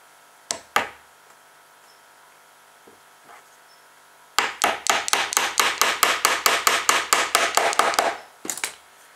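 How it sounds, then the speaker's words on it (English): Wooden 4mm dowel being tapped into a small wheel with a hammer, a few scattered knocks and then a rapid run of about twenty sharp, close taps in steady rhythm, with no talking. "we tap a piece of 4mm dowel into a wheel"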